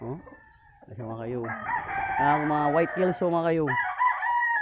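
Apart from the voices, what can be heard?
gamefowl roosters on a small farm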